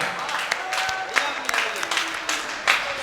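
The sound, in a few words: applause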